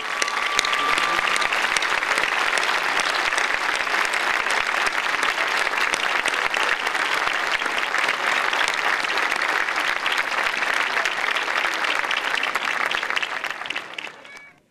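Graduates at the Özyeğin University 2013 graduation ceremony turn to their families in a large hall and applaud them, a dense, loud, sustained wash of clapping from a big crowd that holds steady before fading out at the end.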